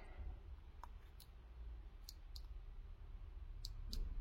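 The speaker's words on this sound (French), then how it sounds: "On entend bien le clic." A card clicks into the slot of a VW Discover Media MIB2 unit (5C0035680) in a VW Sharan 7N2, giving about six sharp, light, close clicks spaced unevenly over a low steady background rumble, with no talking.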